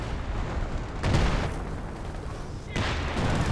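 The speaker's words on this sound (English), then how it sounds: "Some major artillery coming in there, I believe." Heavy artillery shells land in a Company of Heroes 2 match, two broad booming bursts around the one- and three-second marks rolling over a steady battlefield rumble, with nobody speaking.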